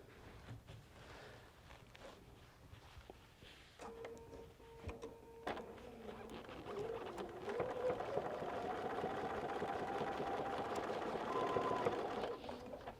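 A domestic sewing machine stitches a quilt seam, starting with faint clicks and brief runs, then settling into a continuous, close mechanical whir that builds slightly in speed and holds steady to the end.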